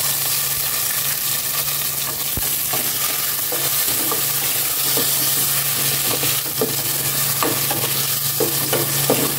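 Onion, chili and tomato fry steadily in a pan with a dense, continuous sizzle, while a spoon scrapes and stirs through the food at irregular intervals.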